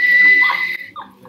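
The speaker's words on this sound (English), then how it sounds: "Also, you see me whistle like this." A person whistles a single loud, close, sustained note that cuts off after under a second, followed by a brief softer trailing tone.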